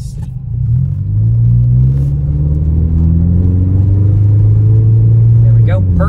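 A 1999 Toyota Camry drives along, its engine hum rising as it pulls away and settling into a loud, steady low rumble heard from inside the car, with brief talk near the end.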